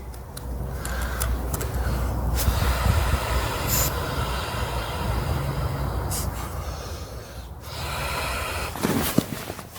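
Breath blown through a nozzle into an inflatable bivvy, heard as a long, steady breathy rush close by, with short pauses and a few sharper puffs, and no talking.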